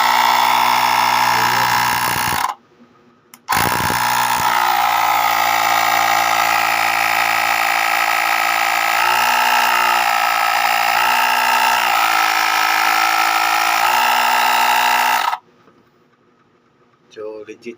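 A portable air compressor for motorcycle tires runs with a steady, loud motorized drone and buzzing harmonics, briefly cutting out near the start before resuming, then stopping abruptly near the end.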